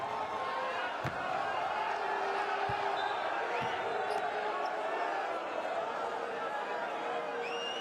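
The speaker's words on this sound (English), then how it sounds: "Crowd getting a little bit restless." Restless crowd murmur fills a basketball arena during a Champions League game between Antwerp and Burgos, a steady broad wash of chatter with a few sharp ball bounces and thuds, and a commentator speaking over it.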